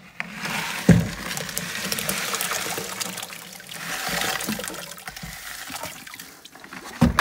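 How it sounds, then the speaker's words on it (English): Salt being stirred into water in a bucket while preparing for elver fishing gives a continuous swishing, trickling liquid sound with a few louder clunks, close and steady throughout. "I just get a bunch of salt in there, let it dilute, mix it in, measure it"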